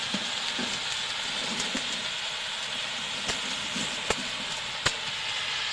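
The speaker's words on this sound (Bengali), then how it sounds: "প্রথমে কলমি শাকের ভাজা দিয়ে শুরু হয়েছে" Water spinach (kalmi shak) fries in a pan with a steady, loud hiss of sizzling oil, punctuated by a few sharp clicks of stirring.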